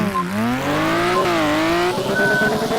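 A race car engine in Drift Mania Championship 2 revs and shifts, its high whine rising and falling steadily, loud and continuous with no talking.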